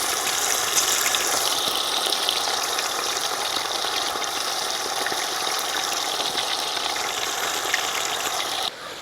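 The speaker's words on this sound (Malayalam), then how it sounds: "ഇനി നമുക്കിത് ഫ്രൈ ചെയ്തെടുക്കാം ഓരോന്നോരോന്ന് ചെയ്യാൻ പറ്റുക കുറേശ്ശെ കുറേശ്ശെ ഇട്ടു കൊടുക്കാം" Fish pieces for fish pickle sizzle in hot oil, a steady loud frying hiss that barely changes, heard up close before it drops off sharply at the very end.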